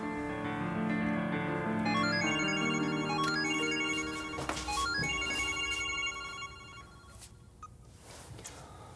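A telephone rings with a melodic electronic tone that repeats for several seconds, then fades into faint background sounds, with no speech.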